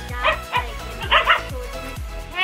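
Two dogs bark and yip in a quick, repeated rhythm close by, with some whimpering between the barks, and a faint voice in the background.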